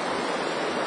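River water flowing steadily during an early spring fishing outing, a close, even broadband rush with no voices.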